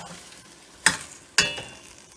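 Blended onion and garlic seasoning poured into a hot pot for curry chicken, two sharp close bursts of sizzling that flare up and fade.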